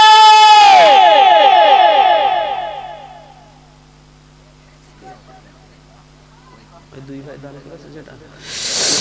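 A crowd at a Bangla waz religious gathering shouts the takbir in unison, a loud booming chorus that rings out and fades. Low murmuring follows, then another burst of voices rises at the end.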